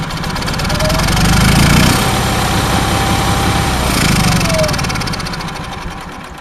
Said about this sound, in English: As you heard, no starter really engaged there.